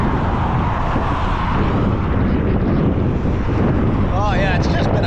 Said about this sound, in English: There's a really strong breeze, wind.